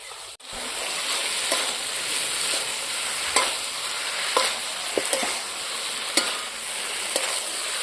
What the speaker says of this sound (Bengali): এখন আমি ভেজে রাখা ফুলকপিগুলো দিয়ে দেবো।